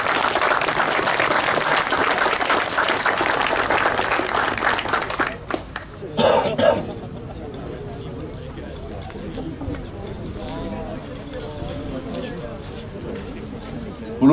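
An audience applauds at a prize ceremony, a thick, sustained wash of clapping for about five seconds that then fades out. A voice speaks over a microphone in the quieter stretch afterward.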